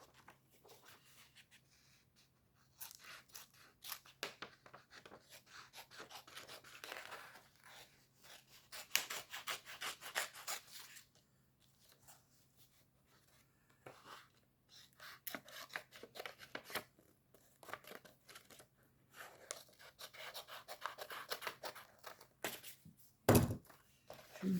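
Scissors cutting out a paper card, close and quiet: irregular bursts of rasping snips and paper rustle spread across the whole stretch, with short pauses between cuts and a sharp thunk near the end.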